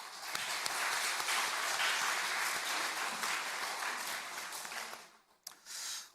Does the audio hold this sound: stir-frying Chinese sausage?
no